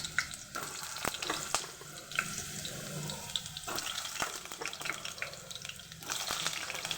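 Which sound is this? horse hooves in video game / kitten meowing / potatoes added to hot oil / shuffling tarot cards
potatoes added to hot oil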